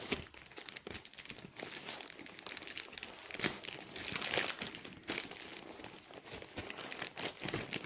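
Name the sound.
opening diaper packaging, crinkling paper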